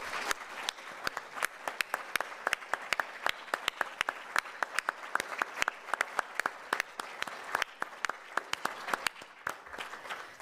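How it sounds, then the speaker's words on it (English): An audience at a community service awards ceremony gives a sustained round of applause, many hands clapping densely and steadily for about ten seconds. "So I'd like to ask you to give everyone a round of applause."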